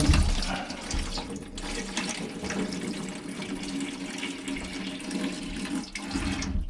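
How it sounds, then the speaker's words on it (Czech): Tap water runs steadily into a bucket during drain-cleaning work at a toilet, a continuous broadband splashing rush that stays loud and unbroken for several seconds with no talk over it. "já potřebuji ten kýbl, já do něho potřebuji vodu"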